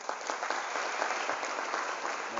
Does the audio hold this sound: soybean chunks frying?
no